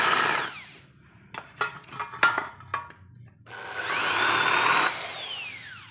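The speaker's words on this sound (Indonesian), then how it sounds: "Pakai bor besar" A large drill bit bores a countersink for a bolt head, whining loudly in a sustained run at the start and again later, with sharp knocks and clatter between the two runs.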